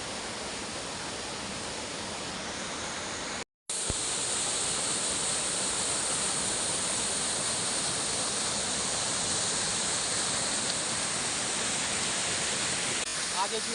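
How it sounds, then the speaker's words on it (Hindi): A winding hill river in a mountain village during the monsoon rushes steadily past, a loud continuous broadband roar of flowing water that drops out for a moment before resuming without pause. "और ये पहाड़ी नदी ये देखिए, ये जारी बल खाती हुई।"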